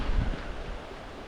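Floodwater surging behind a botanical garden in Gampaha, Sri Lanka, a steady broadband rush with low rumble, strongest at the start and continuing without pause.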